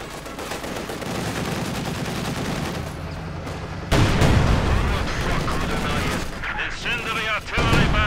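An artillery barrage fires in Company of Heroes 2, dense booms and rattling gunfire layered under a commentator talking, with a sharp jump in loudness midway as more shells land.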